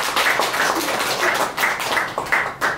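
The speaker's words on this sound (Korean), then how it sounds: "큰 박수로 모셔주시기 바랍니다." An audience claps to welcome a barista onstage before a coffee lecture and demonstration, a modest round of applause with distinct, fairly near hand claps rising and falling.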